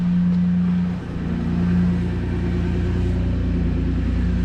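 A re-geared third-generation Toyota 4Runner with 4.88 gears pulls away in first gear in two-wheel drive, its engine droning steadily as a low rising tone climbs and dips, close and continuous with no voices.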